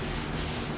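A rag rubs across a brake rotor on a 2006 Toyota Solara after brake cleaner is sprayed, making a steady, close, scratchy wiping sound with no pauses.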